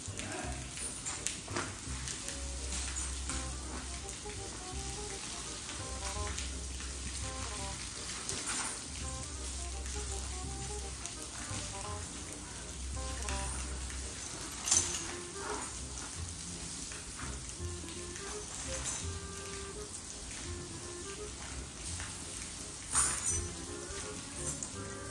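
Steady rain patters and hisses on a surface, fairly quiet, with scattered louder drops and a low rumble in the background.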